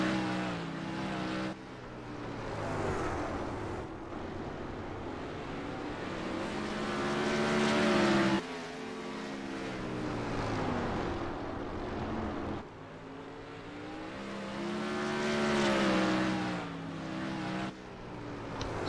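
Spike chassis race cars circling the New Smyrna track, engines rising and falling in long passing waves with a doppler sweep as each car goes by, loud and continuous.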